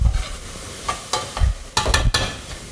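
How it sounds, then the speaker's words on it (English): Dried rosemary sizzling in hot oil as it is stirred, with a steady close fry hiss broken by several sharp scrapes of the utensil against the pan. "So we're just going to stir that."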